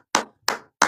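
Three sharp, hard knocks of a mug set down on a table, evenly spaced and close, each with a short decaying ring, alone with no talking.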